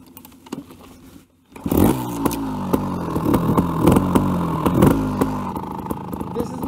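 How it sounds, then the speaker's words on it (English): A trials motorcycle is kick-started with the choke on, and its small engine catches after a brief pause, then runs with a loud, uneven revving idle and a metallic clatter close by. "Gas is on, put the choke on, start the bike."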